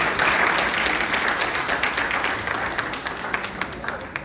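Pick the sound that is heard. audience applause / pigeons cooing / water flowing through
audience applause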